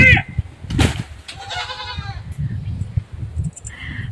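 Goats bleat in a few wavering, nasal calls, fairly close, over a steady low background rumble, on a farm in Jalgaon during the monsoon.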